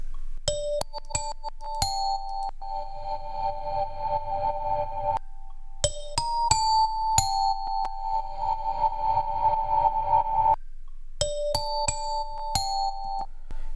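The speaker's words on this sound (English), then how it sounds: "I have this sort of bell sample" Sampled bell tones used in a beat made by a 13-year-old producer for a beat battle, recorded from their own playing: repeated sharp bell strikes with sustained ringing tones, in rhythmic phrases separated by brief gaps, loud and alone.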